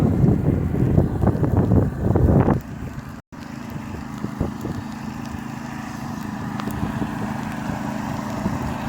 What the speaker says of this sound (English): It's very windy out too.